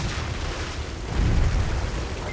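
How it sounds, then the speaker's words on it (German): Explosions from shooting targets in the futuristic city-building game Anno 2205, a rumbling, sustained burst of blasts that swells louder around the middle and continues to the end, with no talk. "Da drauf schießen, dann müssten eigentlich alle explodieren."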